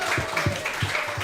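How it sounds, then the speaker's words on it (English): Audience clapping for a girls' flag football coach, a handful of separate, fairly sparse claps in a loose rhythm, close by and at moderate volume. "Clap it up for Coach."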